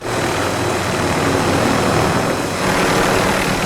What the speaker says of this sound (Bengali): আমি হেলিকপ্টার নিয়ে নিছি বন্ধু